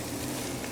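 Onions and mushrooms sizzle in a pan, producing a steady, dense hiss that stays even and close throughout.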